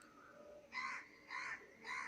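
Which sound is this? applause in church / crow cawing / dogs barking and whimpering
crow cawing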